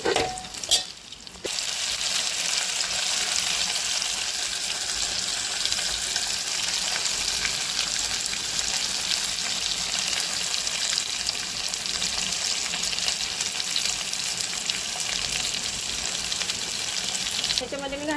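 Potato pieces fry in hot oil with a dense, steady sizzle throughout, broken near the start by a brief clatter of stirring.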